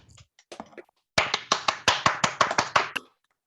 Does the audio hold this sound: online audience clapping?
yes